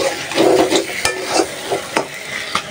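Food fries in a pan with a loud, close sizzle, broken up by scraping and knocking as a utensil stirs it every half second or so. No voices are heard.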